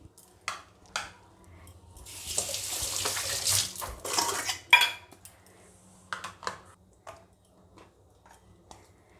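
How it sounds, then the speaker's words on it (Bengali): Cut jackfruit and potato pieces are washed in water at a sink in a village kitchen, with running water, splashing and sloshing, and a few knocks of a pot or bowl, near and moderately loud. "তাহলে আমি কাঁঠালটা আলুটা ধুয়ে নিই।"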